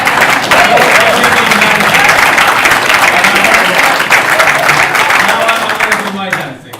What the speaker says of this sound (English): a big round of applause for the entertainment